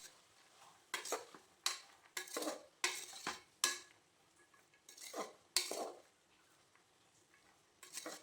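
Spoon stirring vegetable pulao ingredients with turmeric and salt in a metal pot, a series of repeated scraping, clinking strokes in irregular bursts with short quiet gaps, fairly close and clear with no talking.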